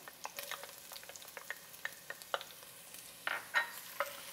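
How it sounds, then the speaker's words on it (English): Onions and shallots crackling and sizzling in a hot pan, with scattered sharp pops and a few louder stirring scrapes toward the end, no talking. "You want a little sound in there, a little sizzle."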